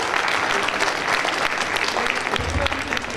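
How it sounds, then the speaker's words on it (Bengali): An audience at the Bangladesh Heritage Fair in Calgary claps for the volunteers, with close, continuous, even applause through the whole stretch and a faint voice beneath it. "আমি আমার ভলেন্টিয়ারদের জন্য আরেকবার অনুরোধ করছি হাততালি দেওয়ার জন্য"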